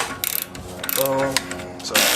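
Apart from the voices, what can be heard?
ratchet wrench turning a bolt on a Mustang axle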